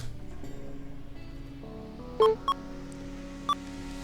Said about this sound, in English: Here are the beeps of the task 23 machine